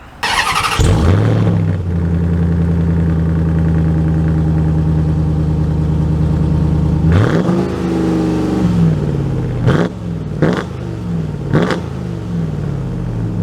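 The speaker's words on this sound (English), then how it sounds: "include an exhaust clip in today's video because the TRX review is not complete without hearing that beautiful V8" A 2023 Ram TRX Havoc Edition pickup's V8 idles with a deep, steady rumble, then blips the throttle several times in sharp, loud revs with throaty exhaust crackle.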